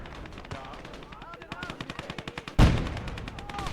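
Rapid bursts from a DShK heavy machine gun in a modded World War II game, a steady run of sharp shots followed by a loud blast, with faint talk underneath.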